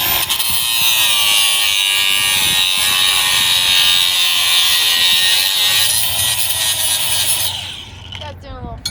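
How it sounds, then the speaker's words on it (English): A hand grinder does finishing work on a car brake part at a drag-racing event, holding a loud, steady, high-pitched whine for several seconds before it eases off near the end. "Dad's doing a little finishing grinding"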